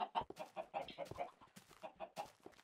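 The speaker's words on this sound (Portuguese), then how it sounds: "Estão imensas galinhas fora da fence." Chickens clucking in the Minecraft Skyblock game, a run of short repeated clucks and squawks from several birds, fairly loud and close, with no talk over them.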